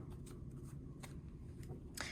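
Tarot cards riffle and slap softly in close, quiet bursts of shuffling, with a brighter card snap near the end.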